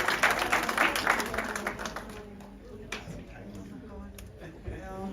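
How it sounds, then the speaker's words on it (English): An audience applauds Minister Lindiwe Zulu at a children's dialogue event, the clapping strongest at first and then thinning into scattered claps under room murmur. "A warm round of applause for Minister Lindiwe Zulu."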